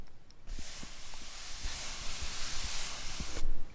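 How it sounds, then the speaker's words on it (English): A hand brushing across drawing paper made to absorb ink, a soft, steady, breathy hiss lasting a few seconds, close and quiet, with faint ticks underneath. "Listen to my hand brushing the paper."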